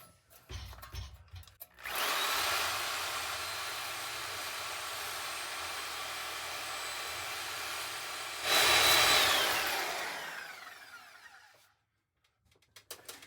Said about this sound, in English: now I'm going to take the Sawzall and cut into the pipe